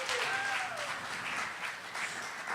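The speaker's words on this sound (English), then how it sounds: "Give her a round of applause." Audience applauding at a community talent show, a steady wash of clapping from a crowd that holds for a couple of seconds with a short whistle near the start.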